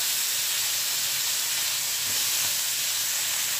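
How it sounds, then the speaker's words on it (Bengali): Chopped vegetables stir-fried in a pan in a home kitchen give a loud, continuous hiss and sizzle, steady and close with no break. "এই সবজির গুঁড়ি কেটে রেখেছিলাম সেগুলো দিয়ে একটু ভালো করে নেড়ে চেড়ে ভেজে নিতে হবে"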